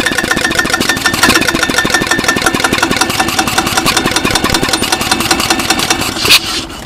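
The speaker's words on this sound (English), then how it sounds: "So there you go, motor go round and round." A 1993 Club Car golf cart motor runs steadily with a fast, even mechanical pulse, loud and close, with a brief surge near the end and no talking.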